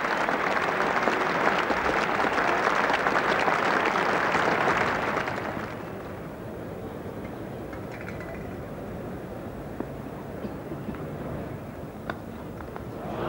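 A cricket crowd at Lord's claps loudly and steadily during a 1989 England v Australia Test match. The applause then drops off sharply and leaves a quieter ground murmur with scattered faint claps.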